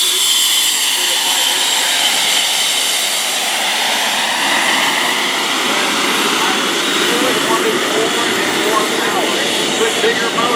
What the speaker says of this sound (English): what we're seeing today is a demonstration of the Pitts biplane